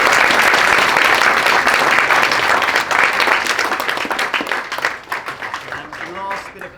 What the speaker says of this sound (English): a round of applause for the three panelists